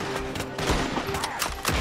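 Gunfire during a shootout with Pinkertons in Red Dead Redemption 2, several heavy shots cracking in quick irregular succession over busy game ambience, loud and close.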